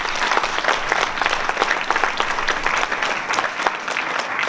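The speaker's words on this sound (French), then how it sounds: "sous vos applaudissements évidemment" An audience applauds at a francophone women's comedy festival final as a culture official is welcomed, continuous lively clapping with distinct sharp claps standing out throughout.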